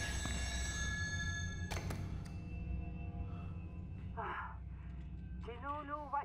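An old telephone rings inside the offshore oil rig setting of the horror game Still Wakes the Deep, a faint metallic bell over a heavy low droning hum, with a player speaking briefly near the end.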